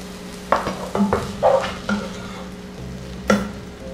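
A spoon scrapes and stirs chicken lasagna filling in a hot pan in several distinct strokes over a steady soft sizzle, with no talk.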